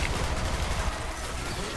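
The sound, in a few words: Stormfront grenade spam in video game Borderlands 3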